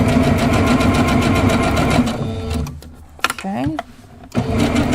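A sewing machine runs steadily, stitching a pillow wall hanging, then pauses briefly while a person speaks before the stitching starts up again.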